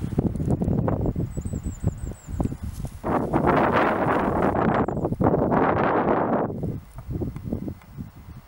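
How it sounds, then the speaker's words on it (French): Wind gusting on a mountain trail on the Molkenrain, rushing and buffeting the microphone in loud, rising surges with rustling, plus a brief faint bird chirp above it. "Le vent est en train de se lever."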